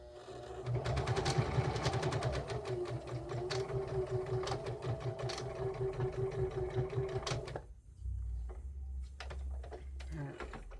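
A sewing machine runs in steady bursts of rapid stitching while sewing a grocery bag holder with a safety pin threaded through, stopping briefly near the end before a few short restarts, close and clear with no talk.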